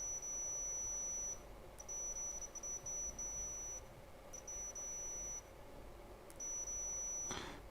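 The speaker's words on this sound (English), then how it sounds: "let me shut up so we can hear the beep" Tooltop ET12S multimeter on continuity test giving a thin, high-pitched electronic beep in repeated bursts of about one to two seconds, with short gaps between them and a faint steady background hum.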